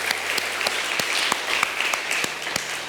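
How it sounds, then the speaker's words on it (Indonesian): A church congregation gives steady, sustained applause that fills a large room, with a few sharper claps standing out from the dense wash of hands. "Saudara, kita tepuk tangan dulu buat Tuhan Yesus."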